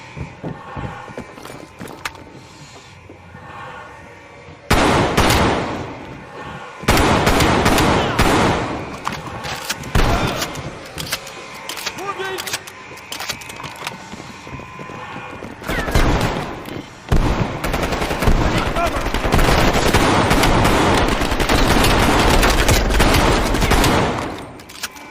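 Call of Duty Black Ops Cold War combat: repeated bursts of automatic gunfire and single shots, some close and loud, some quieter, mixed with running footsteps across a busy firefight.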